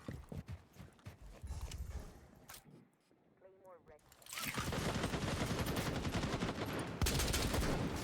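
Rapid gunfire from the tactical shooter Rainbow Six Siege, loud and dense bursts with a brief lull midway, then sustained shooting, under a caster's commentary.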